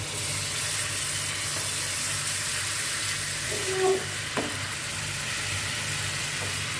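Garlic and ginger fry in reused kofta oil in a pan, giving a steady, fairly loud hiss over a constant low hum, with a brief stir partway through.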